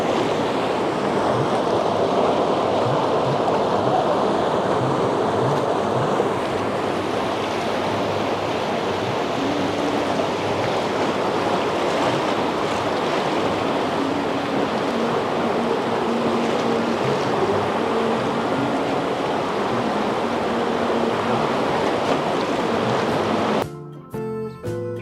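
The swollen Ganga rushes past the ghats at Janki Setu in Rishikesh, a continuous broad roar of churning river water with wind buffeting, steady and loud throughout, ending in a brief abrupt clatter.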